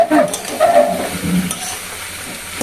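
Potatoes sizzle in a hot pan while a spoon scrapes and stirs them, a few quick stirring strokes over a steady frying hiss, close and fairly loud, fading slightly toward the end.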